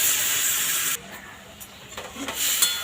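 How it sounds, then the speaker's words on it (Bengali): Tempering spices hit hot oil for a pot of dal, a loud, bright sizzling hiss that cuts off abruptly after about a second, then softer crackles and spitting continue close by. "আমি এবার ফোড়নে দিয়ে দিচ্ছি।"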